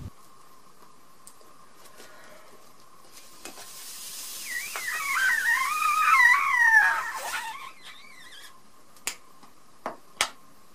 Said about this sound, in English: then filling the balloon with water.